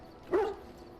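Dog in the video game Dragon Age: Origins lets out a single short bark or yelp, mid-loud and close, with no talking over it.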